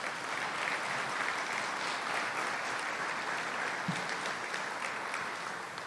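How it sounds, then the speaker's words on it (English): Steady applause from an audience at a mayor's breakfast event in a city hall, a continuous even patter of clapping hands throughout, moderately distant with no voices standing out. "Can we give them a big round of applause?"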